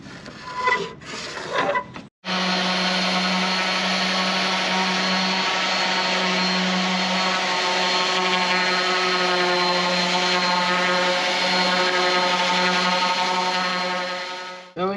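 A loud, steady mechanical whine from a power sander fairing a boat runs nonstop for about twelve seconds after a brief pause, with strong harmonic tones.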